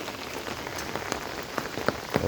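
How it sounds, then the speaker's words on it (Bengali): Heavy rain pours down outside near a mosque and homes, water pooling on the ground, a dense continuous patter with sharper individual drops splashing close by, no talking. "দেখেন প্রচুর পরিমাণ বৃষ্টি এসছে এবং পানি জমছে"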